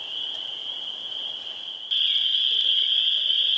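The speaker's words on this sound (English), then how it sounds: "Do you hear that beautiful sound in the background? That is all spring peepers and chorus frogs." Spring peepers and chorus frogs call together at evening in a wetland, forming a steady high-pitched chorus that swells louder partway through and continues unbroken.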